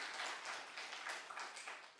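A church congregation at a Korean Methodist Wednesday prayer meeting rises for a standing ovation, with a dense, steady wash of many hands clapping that swells and fades slightly over two seconds.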